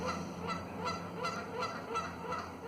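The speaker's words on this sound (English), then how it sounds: "those would be Canadian geese" Canada geese at Stanley Park honk again and again in a steady, rhythmic series of nasal calls, moderately distant over a soft outdoor background.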